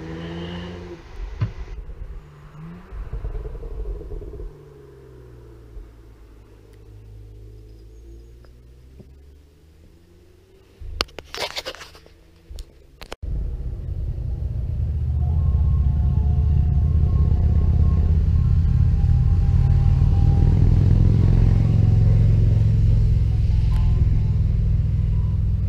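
BMW test cars from the Miramas test centre climb a steep, winding hill road at Charleval. Engine rumble starts distant and quiet, then swells into a loud, sustained drone with a brief clattering burst just before.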